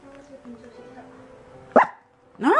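A person speaks softly, then a dog lets out one short bark, followed by a louder rising yelp close by.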